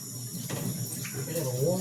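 Tap water runs briefly into a pot to rinse out rice, a soft splashing flow under a voice in a home kitchen.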